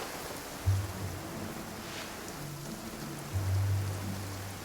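A heavy rain downpour gives a steady, even hiss throughout, with low tonal sounds briefly rising twice over it.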